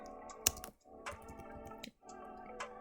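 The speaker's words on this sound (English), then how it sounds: "And from your keyboard you can also hit tab." Faint clicks of the Tab key on a computer keyboard being pressed, a few soft taps against quiet background hum.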